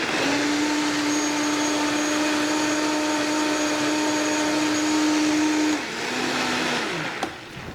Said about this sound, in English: the magic part with the Vitamix, full tilts